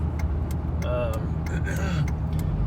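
A 2004 third-generation Cummins diesel truck driving along, its steady engine rumble and road noise running underneath while someone talks over it in the cab.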